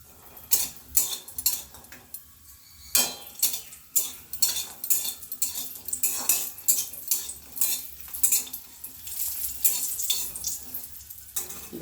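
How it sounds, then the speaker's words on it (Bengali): Bori, small sun-dried lentil dumplings, frying in hot oil in a karai, with a steady close sizzle broken by repeated sharp clinks and scrapes of a metal spatula against the pan. "বড়িগুলো ভেজে নিচ্ছি।"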